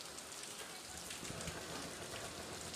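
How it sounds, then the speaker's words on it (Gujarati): Steady rain falling outdoors, a dense continuous hiss of drops across the whole clip at an even, moderate level with no other clear sounds. "વરસાદ જ એવડો આવે છે."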